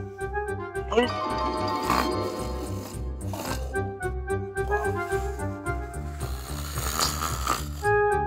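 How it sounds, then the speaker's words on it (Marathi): A man snores loudly in a comedy scene, with a steady, rhythmic rasping snore rising and falling over background music. "स्वतः मात्र डीजेच्या आवाजात घोरताय"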